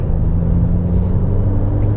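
A Mk5 VW Golf GTI Edition 30 engine jitters and strains in third gear, a steady loud low rumble with an uneven, wavering drone and no voices.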